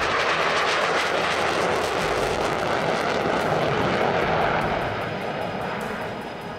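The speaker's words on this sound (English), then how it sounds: "a display by a Mohain Saulnier MS-760 Paris to represent French Navy heritage" A Morane-Saulnier MS-760 Paris jet flies an airshow display in French Navy heritage colours, its loud, steady engine roar filling the whole stretch before easing off slightly near the end.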